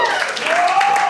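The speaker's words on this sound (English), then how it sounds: "I was hoping you'd clap at that one" Live comedy-club audience breaking into loud, dense applause mixed with cheering crowd noise, close and continuous for about a second, with no distinct voice rising above it.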